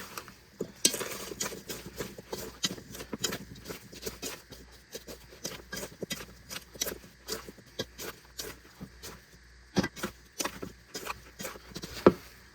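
Apples and brown sugar stirred together in a bowl for a Dutch apple pie, a steady run of soft clattering scrapes and taps from the utensil, close and fairly quiet.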